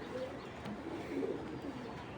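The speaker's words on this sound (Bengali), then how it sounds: "খুব সুন্দর একটা ইয়াং কবুতর" A young racing pigeon gives a few soft, low coos close by, faint and brief, with no talking over it.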